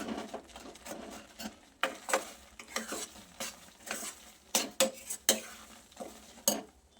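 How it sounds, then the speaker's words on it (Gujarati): Steady scraping and stirring in a pan, with sharp clicks and scrapes over a dry, low sizzle of flour roasting on a low gas flame for adadiya. "ગેસની ફ્લેમને લો રાખીને જ સરસ લોટ આપણે શેકવાનો છે"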